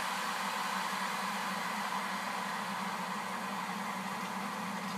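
A 240V electric water heater warms roughly one cup of water, giving off a steady, unchanging hiss with a low hum underneath that holds for the whole stretch with no voices.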